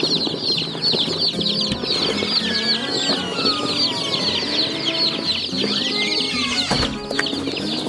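A crowd of meat-breed chicks peeping constantly in high, dense chirps, with a few low clucks and a brief rustle or flap near the end.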